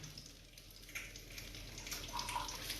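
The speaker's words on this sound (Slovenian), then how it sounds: "Zdaj pa rabimo še eno šalico vode, vrele." Boiling water is poured from a cup into a pot of dry couscous in a kitchen, making a soft, faint trickle that grows a little fuller toward the end.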